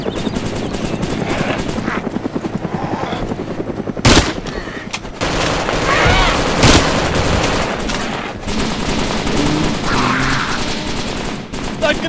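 In the video game DayZ, rapid machine-gun bursts ring out over a thudding helicopter drone, with sharp loud shots in clusters and voices talking over the din.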